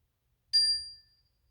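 A small hand bell is struck once to open a children's lesson, giving a single clear, bright ding that rings briefly and fades within about half a second, alone in a quiet room.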